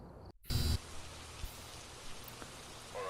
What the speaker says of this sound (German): Schon allein der Regen hört sich gut an.